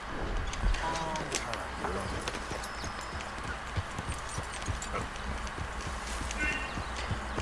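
Horse hooves clip-clop through a steady, busy game soundscape near a river, in an open-world horse-hunting video game, with a talking voice over the top and scattered chirps and effects.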